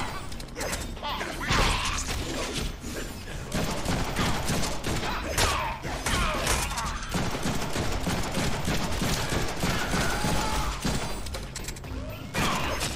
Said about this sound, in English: You guys need to stop shooting me.